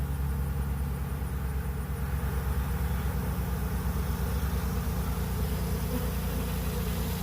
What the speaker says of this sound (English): Quite a few bees here.